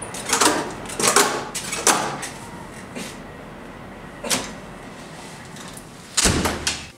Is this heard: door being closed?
yes